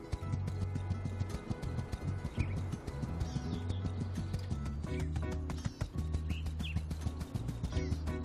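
Horse hooves clip-clopping in the video game My Time at Sandrock, a steady rhythmic trot set against loud continuous game music that runs through the whole stretch.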